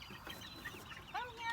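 Chickens and chicks cluck and peep softly in a barnyard, with a few short high chirps over a low, steady background murmur.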